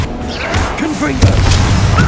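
A Confringo blasting spell bursts on impact in the Hogwarts Legacy video game, a sharp crack at about one second followed by a rumbling blast, with game voices and effects around it.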